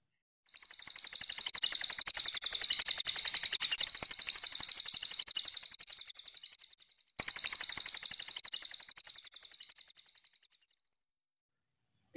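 A small bird sings rapid, high trilling chirps in two long bursts, the first fading out before a shorter second run, with no one talking.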